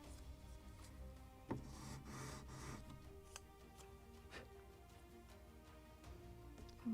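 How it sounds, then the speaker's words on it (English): Sandpaper on a wooden block rasps along the edge of a wooden plank for a 1776 gunboat Philadelphia model, chamfering it in a few close, scratchy strokes, with quieter rubbing after. "So for chamfering I just will use piece of block with sandpaper and just will remove slightly"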